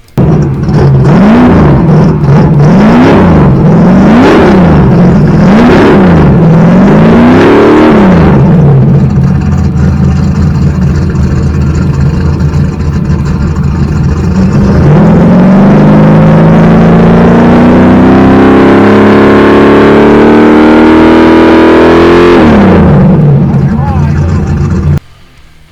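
Drag race car engine in the pits at Sick Week 2023, revving repeatedly in sharp rising bursts, then settling into a loud sustained high-revving drone that climbs and drops off, very close and dominant.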